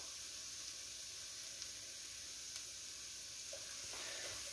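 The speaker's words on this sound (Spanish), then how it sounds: "Y ahora es el momento de agregar el ajo." Finely minced garlic fries in a pan for a vol-au-vent filling, making a faint, steady hiss of sizzling throughout with a couple of soft clicks near the end, and no one speaking.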